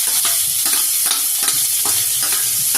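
Onions go into hot oil in a home kitchen, crackling and sizzling loudly, with rhythmic stirring strokes scraping the pan about every half second.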